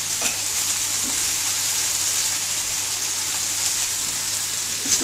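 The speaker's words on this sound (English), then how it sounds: "Get the bacon in too." Bacon fries in a pan alongside liver, giving a steady, close hiss of sizzling fat with occasional soft pops.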